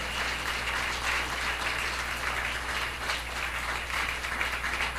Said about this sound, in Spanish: Yo le daría un aplauso al Señor.